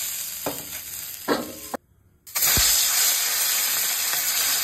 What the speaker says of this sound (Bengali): মাছগুলো খুব ভালো করে ভাজা হয়ে গেলে এবার তুলে নেব।